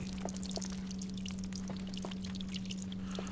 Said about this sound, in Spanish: Ah, mira, está goteando.